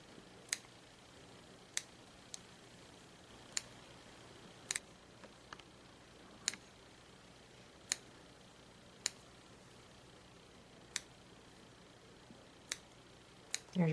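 Scissors snip a crocheted steek in a quiet room, with about a dozen crisp, isolated cuts spaced a second or so apart against faint background hiss.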